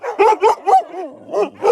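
A sled dog in a kennel yard gives a run of close, loud yips and barks in quick succession, rising and falling like chatty talking, with no voices over it.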